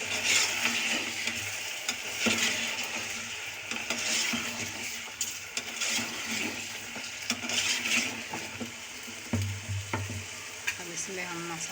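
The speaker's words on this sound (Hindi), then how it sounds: "अदरक लहसुन डाल के इसको अच्छी तरह हम भूनेंगे।" Ginger and garlic fry for a korma, with a continuous loud sizzle, and a spoon stirs and scrapes the pan with clinks and knocks throughout.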